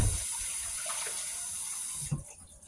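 Tap water runs steadily into a sink while a bunch of thyme is washed, a soft continuous hiss that cuts off abruptly near the end.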